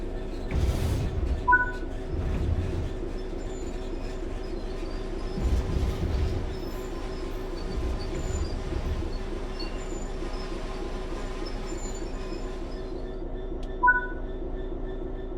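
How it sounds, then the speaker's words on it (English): Train running in Train Sim World 3 with steady rumbling and rolling noise throughout, a few brief metallic squeals and tones rising over the continuous drive as it slows, with no talk. "Stopping a train is one of the biggest challenges of controlling them"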